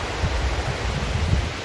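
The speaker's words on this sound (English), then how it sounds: "You can already see the waterfall." Steady broadband rush of Falls Creek Falls, a waterfall heard from near a viewpoint on a short hike, a constant roar with low rumbling surges and no voices.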